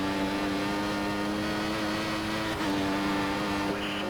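Steady droning engine of an F1 race car in the F1 2014 racing game, a continuous whining hum with fixed tonal bands, held loud and even throughout.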